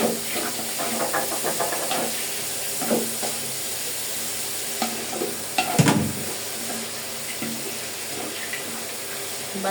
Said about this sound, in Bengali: বাঁধাকপিটাকে 2-1 মিনিট ভেজে নিয়েছি।